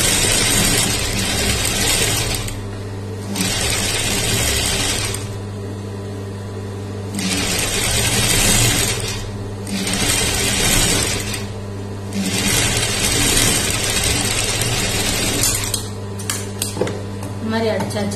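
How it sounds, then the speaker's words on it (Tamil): A sewing machine stitches along the edge of a churidar neck in long bursts, with steady mechanical whirring broken by short pauses, close and fairly loud; a voice talks intermittently. "அப்படியே இந்த பக்கமாவும் எட்ஜில் ஒரு தையல் போட்டுக்கலாம்."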